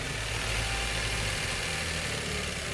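Mitsubishi Mirage G4 engine running steadily after a repair for a misfire, a continuous close idle hum with low rumble and no talk, outdoors in light rain.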